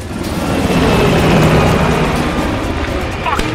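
Military helicopter in Call of Duty Black Ops Cold War, a loud, dense rotor and engine roar that holds steady throughout, with no clear fade as it flies off.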